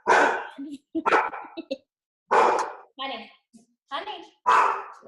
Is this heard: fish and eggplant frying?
no